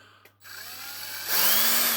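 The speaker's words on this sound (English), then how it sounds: "I'm just going to very gently drill out those rivets there" A power drill spins up after a brief quiet moment, its whine rising and growing louder as it bites into rivets on a die-cast Matchbox Rolls-Royce Silver Shadow model, close by.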